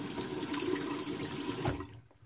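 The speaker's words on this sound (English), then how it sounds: "Rinse it off." Water running from a tap into a sink as a Ming Shi 2000s safety razor is rinsed during a wet shave, a steady splashing stream that cuts off near the end.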